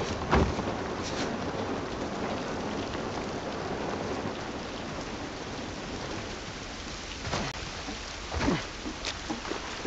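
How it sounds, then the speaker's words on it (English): Steady rain pours throughout in the video game The Last of Us Part 1, with several sharp thunder cracks and rumbles breaking through near the end. "Rain ain't gonna do us any good."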